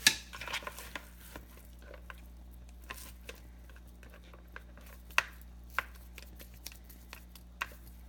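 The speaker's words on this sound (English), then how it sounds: "Gonna move the vegetables around because the meatballs are standing on the vegetables" A spoon moves vegetables and meatballs around in a pot of albóndigas soup, giving faint scattered clinks and knocks against the pot over a steady low background hum.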